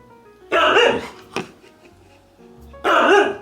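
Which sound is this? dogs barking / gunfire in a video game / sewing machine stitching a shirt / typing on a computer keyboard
dogs barking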